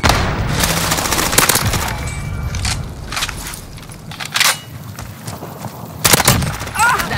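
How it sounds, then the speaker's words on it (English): Video game grenade explosion followed by bursts of gunfire, several sharp booms and cracks spread through a noisy firefight with a player talking over it. "Throwing grenade."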